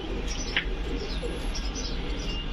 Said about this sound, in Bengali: এই কবুতর দেখেন কি অ্যাক্টিভ